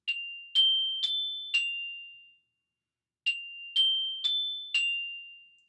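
Percussion bells ring out an ascending figure from F up to A, struck four times in a steady rhythm, then after a short silence the same four bright, ringing strikes repeat, each tone decaying cleanly.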